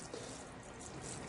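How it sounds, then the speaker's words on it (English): Oil absorbent is demonstrated as liquid is poured into a container, producing a steady, close splashing stream with no pauses. "Let's pour a little more in just for fun"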